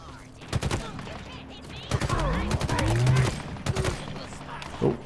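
Sniper gunfire in the Halo Infinite campaign rings out among bursts of rapid game gunfire and explosions, with several sharp cracks across the clip and a vehicle rumble beneath, while a player talks over the action.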